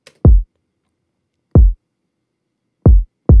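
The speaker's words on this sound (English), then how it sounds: "You can hear that tail of the kick drum." Four deep, booming kick drum hits spaced irregularly, each with a short decaying low tail, loud and isolated against silence.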